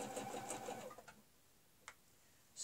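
Quilting sewing machine stitching along a ruler in a fleur-de-lys pattern, a steady close whirring run of stitches that stops about a second in, followed by a couple of faint clicks in a quiet room.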